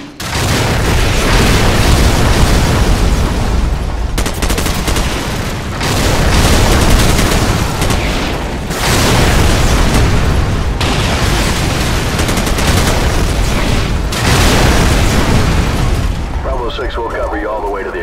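An artillery fire mission in Call of Duty 4: Modern Warfare, loud repeated explosions rolling one after another in a dense, continuous barrage, with shouting voices mixed into the din.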